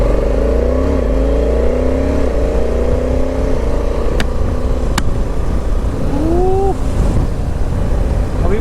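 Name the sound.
motorcycle riding fast on coastal highway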